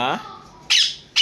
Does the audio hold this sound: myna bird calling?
yes